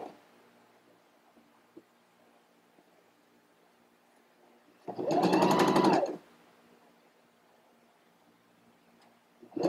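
A sewing machine stitches vertical pin tucks in fabric, a single close burst of rapid, steady whirring lasting about a second amid an otherwise quiet room.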